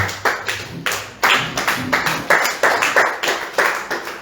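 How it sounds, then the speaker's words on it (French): A congregation claps in unison at a church thanksgiving service, loud, close rhythmic claps roughly every third of a second, with no talking over them. "Acclame le Seigneur Jésus."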